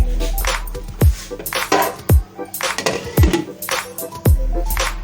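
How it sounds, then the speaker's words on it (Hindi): A lid goes onto a cooking pot of rice kadhi with four sharp metallic clanks at fairly even intervals over a steady low hum, close by with no talking. "अब हम इसको ढक के रख देंगे"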